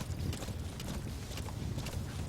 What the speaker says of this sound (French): Je prends le cheval, c'est parti,